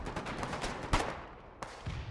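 A gunboat cannon fires a fragmentation shell in the naval combat game Foxhole, a single sharp boom near the middle followed by a lighter crack, set against steady background rumble.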